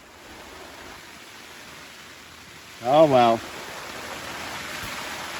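Rain falls overnight on a broken tent that is leaking, giving a steady hiss of water with a brief spoken remark in the middle.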